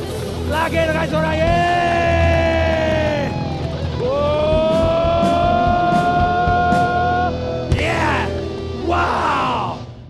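A crowd at an Indonesian motivational seminar cheers loudly, long sustained shouts and whoops from many voices at once, with a burst of claps and yells rising near the end.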